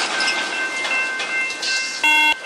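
A train drags a car along the tracks with people inside, giving a sustained metallic scraping and grinding roar with thin squealing tones, and a brief harsher screech near the end.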